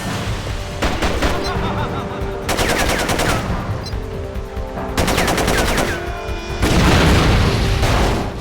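Gunfire in Jet Li's Rise to Honor, loud rapid bursts of automatic fire in several separate volleys with short pauses between, punctuated by booming impacts.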